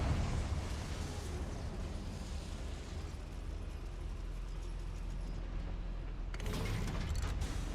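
In Hogwarts Legacy, a Confringo blasting spell is cast inside a goblin mine: a dull, rumbling roar of noise, with a sharper crackling burst near the end.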